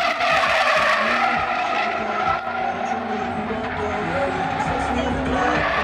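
Supercharged Ford Mustang drifting at SEMA 2010, tires skidding and squealing in a long continuous screech over a loud roaring engine, close and sustained throughout.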